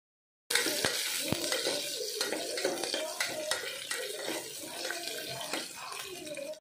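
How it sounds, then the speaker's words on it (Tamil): Shallots and green chillies sauté in a pan for mutton keema nonbu kanji, a steady close sizzle with stirring scrapes and a few sharp clinks, no voices. "இப்போ இது லைட்டா ஒரு கண்ணாடி பதம் வர அளவுக்கு லைட்டா வதக்கிக்கலாம்."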